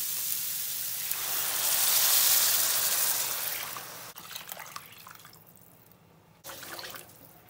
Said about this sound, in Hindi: अब मैं पानी डाल दूंगी।